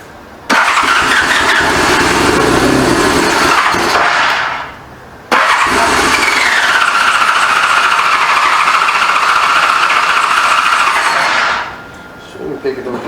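A 1985 Honda Goldwing GL1200 motorcycle engine fires up for the first time after a carburetor rebuild, running loud and close with a brief drop and restart before settling to a steady idle, then cutting off.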